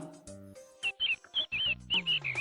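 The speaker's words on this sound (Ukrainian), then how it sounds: "курча" A string of short, high-pitched chick cheeps, about eight bright peeps in quick succession over a soft tonal background.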